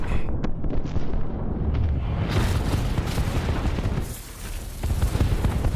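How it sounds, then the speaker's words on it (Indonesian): A massive explosion blast wave from a sci-fi film rolls in as a loud, dense roar of rumbling crackle that sustains throughout, dipping briefly before surging again. "Gelombang ledakan pun menghantam bumi sehingga membuatnya menjauh dari Jupiter."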